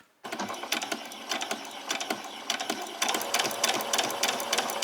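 A sewing machine runs straight stitches on fabric for a pajama top, a steady close mechanical whir that stops briefly and restarts, with no talking.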